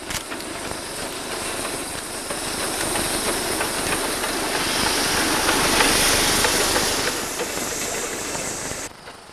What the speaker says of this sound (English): Haulage is provided by the La Meuse locomotive from the Worms Hill and Bredgar Railway.